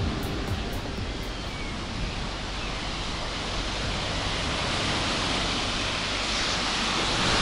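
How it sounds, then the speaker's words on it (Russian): Baltic Sea surf washing onto a beach, a steady broad wash of waves rolling in continuously with a low rumble, loud and close with no voices. "Балтийское море"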